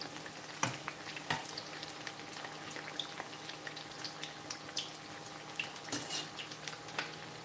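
Masala vada, tea-shop style, frying in hot oil as the pieces are turned over: a soft, steady crackle with scattered small pops, fairly quiet and alone.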